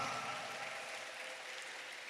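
A church congregation at an El Shaddai anniversary celebration in a parish chapel, applauding together in a steady, dense wash of clapping that sounds fairly distant and soft.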